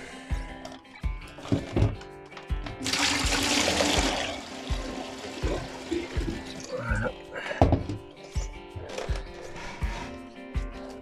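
Water gushes and splashes into a bucket while an Oase pond filter tank is being cleaned, with a heavy pour up close followed by lighter trickles and knocks.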